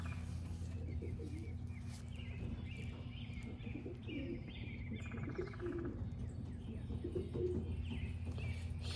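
Racing pigeons coo and chirp softly in a loft, a low murmuring chorus of repeated coos and faint tweets over a constant background hum, fairly quiet and continuous.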